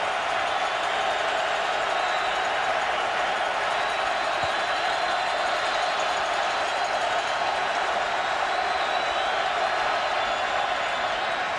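Football stadium crowd at a UCF versus Louisville 2013 game, a steady dense roar of many voices filling the space at a constant loud level with no pauses.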